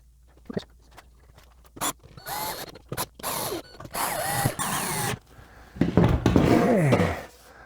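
A power drill backs screws out of a wood panel in a minivan, with several separate whirring bursts of varying length and pitch between pauses, close and clear, the last burst longest.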